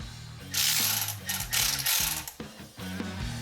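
Ratchet undoing bolts on a Harley Evo primary case, loud close rapid clicking in several bursts with brief pauses between.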